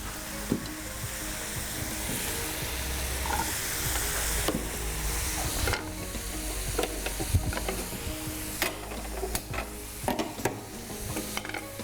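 Coloured capsicum is tossed in a hot pan, giving a steady broadband sizzle with scraping stir strokes and occasional metallic clinks of utensil against pan, close and fairly loud with no talk.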